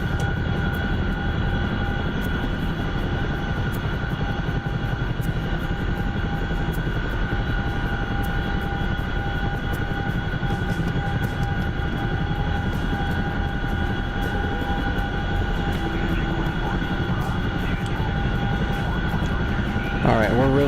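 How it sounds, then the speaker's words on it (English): Steady, loud drone of a Hercules four-turboprop cargo plane's engines heard from inside the cabin, a constant roar with tonal whine throughout, with no talking over it. "the Hercules is the 4 turboprop cargo plane, the big dog."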